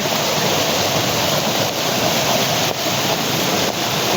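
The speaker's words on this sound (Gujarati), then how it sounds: "જોઈ શકો મિત્રો કેટલું પાણી આવે" Floodwater rushes in a steady, loud, unbroken roar during heavy monsoon rain in Umej village, Una taluka, with a few faint thumps and no voices.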